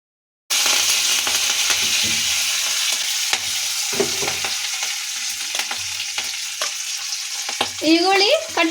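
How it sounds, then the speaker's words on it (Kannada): Mustard seeds and cumin sizzle and pop in hot oil for an Uttar Karnataka beans palya, a loud, close, steady crackle that starts abruptly, with scattered spatters and stirring scrapes throughout. "ಎಣ್ಣೆ ಹಾಕ್ಕೊಂಡು ಸ್ವಲ್ಪ ಅರ್ಧ ಸ್ಪೂನಷ್ಟು ಸಾಸಿವೆ, ಅರ್ಧ ಸ್ಪೂನಷ್ಟು ಜೀರಿಗೆ"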